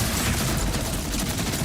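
A very fast-firing gun in the looter shooter Borderlands 4 unleashes a continuous, dense stream of rapid shots, loud and unbroken throughout.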